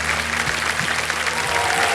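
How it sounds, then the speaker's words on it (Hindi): Studio audience on a Hindi TV quiz show (KBC) applauding steadily for a contestant, a dense, even wash of clapping with faint low background tones underneath. "तालियां बज जाएं इनके लिए।"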